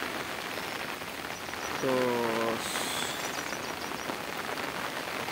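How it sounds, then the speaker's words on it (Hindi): Steady rain falls throughout on a weekday morning, a dense even hiss that stays loud from start to finish, with a brief voice and a short tonal sound partway through. "तो देख सकते हैं बुधवार तो बारिश हो रहा है"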